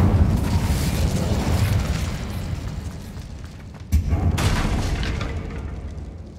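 An Incendio fire spell goes off in Hogwarts Legacy, a loud rushing whoosh of flame with a sharp burst near the middle, dense and sustained.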